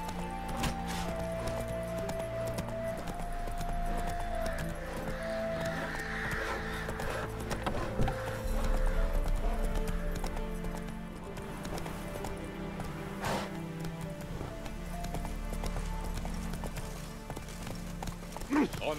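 The horse Roach galloping in The Witcher 3, a steady rhythmic clip-clop of hooves running on and on under game music and ambient sound, with voices talking over parts of it.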